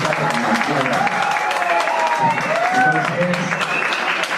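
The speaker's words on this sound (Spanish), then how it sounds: "Yo creo un aplauso para ustedes porque son los únicos que cumplieron esta presentación." Applause from an audience for students at a university humanities talk in Colombia, a steady clatter of clapping across the whole stretch with voices and tonal sounds mixed over it.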